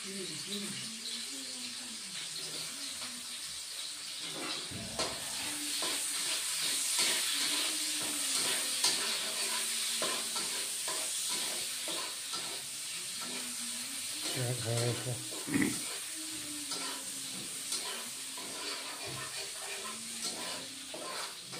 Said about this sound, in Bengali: তা বন্ধুরা পেঁয়াজ ফোড়ন দিচ্ছি।